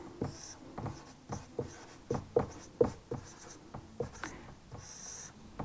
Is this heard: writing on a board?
yes